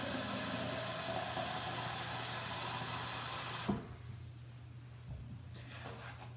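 Water pours into a Grayl Ultrapress bottle as a steady, close, rushing hiss for several seconds, then stops abruptly and leaves a faint hum with a few small knocks.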